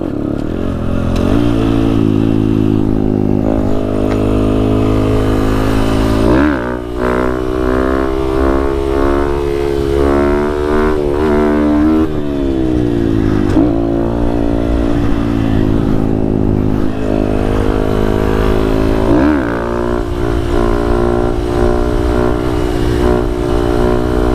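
A Honda Grom motorcycle revs hard through repeated wheelies, its loud, close single-cylinder engine rising and dropping in pitch with each throttle burst and shift, steady and without voices.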